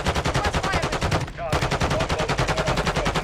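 Rapid automatic gunfire rattles in Call of Duty: Modern Warfare II, loud and close, with dense evenly spaced shots, a brief gap near the middle, then the fast stream of rounds resumes.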